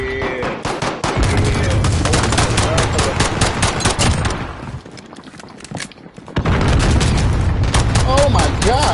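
Dense automatic gunfire and bursts of shooting fill a Call of Duty Modern Warfare co-op match, loud and continuous apart from a brief lull, with booms mixed in and voices talking over it.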